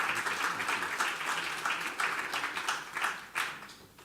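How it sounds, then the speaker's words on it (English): Dinner guests at the 2018 Royal Cocoa Festival in London applaud Lord Alton, a dense burst of clapping that swells, holds, then tapers off near the end. "Please, a big round of applause. Keep it going, keep it going, keep it going."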